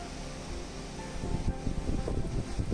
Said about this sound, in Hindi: बारिश नहीं है, ये बहुत तेज बारिश है।